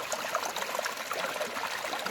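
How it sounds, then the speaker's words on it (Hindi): Ganga water gurgles and trickles in a stream at Mount Abu, a steady soft babbling flow heard alone at a distance with no voices. "आप इस गंगा जल की कलकल की ध्वनि को सुनिए साहब।"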